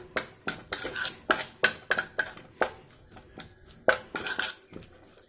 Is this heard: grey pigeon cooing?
no